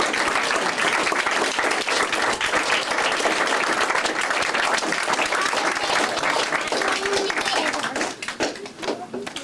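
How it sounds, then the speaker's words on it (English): Audience standing and applauding at an Eagle Scout ceremony, a loud, sustained wash of clapping that carries on steadily, then begins to taper near the end, with faint voices mixed in. "Will the audience please rise and give Eagle Scout Reece Hayden a round of applause?"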